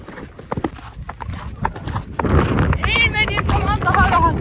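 Horse hooves clip-clop along a lone forest ride, close and steady, with whinny-like tonal sounds near the end and a rider's voice nearby.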